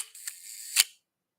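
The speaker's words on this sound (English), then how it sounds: "you want to make sure to test a really fast shutter speed and a really slow shutter speed" A film SLR camera shutter fires at a slow speed, giving a close, crisp mechanical click, a brief whirring pause, then a second sharp clack about half a second later.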